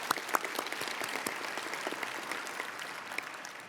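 An audience at a sports hall of fame ceremony applauds steadily, dense clapping at even loudness with a few sharper claps standing out throughout.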